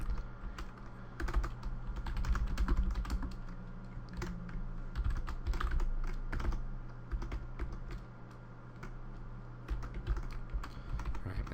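Steady typing on a new computer keyboard during a game-programming session, rapid uneven key clicks running continuously at close range with no voices.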